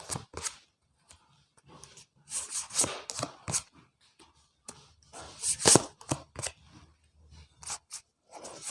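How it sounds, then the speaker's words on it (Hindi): Tarot cards being shuffled and drawn by hand, a series of brisk riffling bursts and soft flicks and slaps of card stock, close and fairly quiet with short pauses between. "अभी आपके पर्सन के कार्ड निकालेंगे।"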